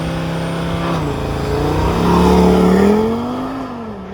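A 2023 Audi RS3 engine revs and accelerates hard, a loud, close, rising growl that climbs in pitch, dips briefly and surges again with no talking.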